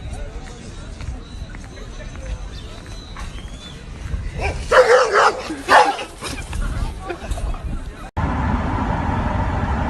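Dogs bark and yip in a few bursts midway, fairly loud against a rough outdoor background, mixed with people talking and shouting around them.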